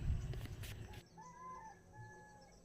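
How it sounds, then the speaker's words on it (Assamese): A rooster and birds call on a cold, foggy morning: a brief low rumble, then thin, faint, drawn-out calls and chirps at a distance in a quiet outdoor setting. "কুঁৱলী লগত চৰাই চিৰিকটিৰ মাত"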